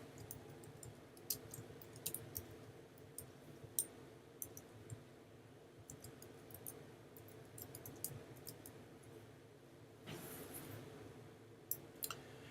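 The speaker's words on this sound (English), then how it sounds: "click our text tool, click, and we'll just start typing" Faint, scattered clicks of a computer mouse and keyboard typing at a desk while text is entered in image-editing software, irregular and close, with no talk.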